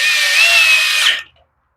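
A power driver whines loudly and steadily for about a second, driving a screw into a plastic carburetor on a Husqvarna, then cuts off abruptly into silence.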